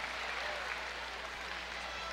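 Audience at a square dance competition at the Pennsylvania Farm Show gives sustained, dense applause, a steady wash of clapping from a large crowd throughout, with a voice faintly present beneath it.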